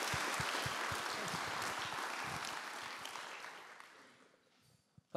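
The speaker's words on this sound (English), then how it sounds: "Give a round of applause, please, for our panel members." An evening audience at a college info night applauds panel members with steady, moderate clapping that gradually thins and dies away, leaving a few last claps.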